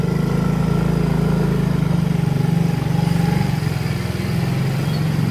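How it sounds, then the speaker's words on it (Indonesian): A motorcycle rides along a narrow village road near Dusun Piudan, its engine a steady, close, unbroken drone that dips slightly near the end, with no talking. "Dan saya bersepeda motor."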